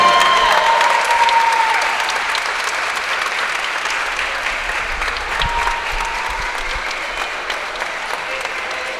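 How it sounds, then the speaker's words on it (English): A crowd at a women's basketball game against Eastern applauds an honoree with sustained clapping that holds steady for the whole stretch, loud and near at first and easing slightly toward the end. "Ladies and gentlemen, a round of applause for Bree Pavone!"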